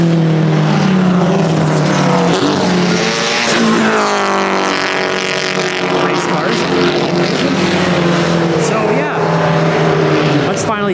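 Race cars roar past at the Goodwood Festival of Speed event in Canada, their loud engines rising and falling in pitch as they pass nearby while a voice talks over the noise.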